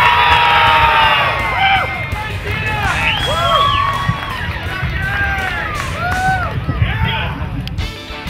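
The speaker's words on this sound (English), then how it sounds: "you scream as loud as you can if that's the bike you're voting for" A festival crowd at the Oregon Dunefest screams and whoops loudly in a burst of many overlapping voices, cheering to vote for a bike, with shouts rising and falling over a dense roar.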